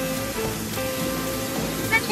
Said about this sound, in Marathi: जोरात पाऊस आला आणि तुम्हाला धबधबा दाखवतो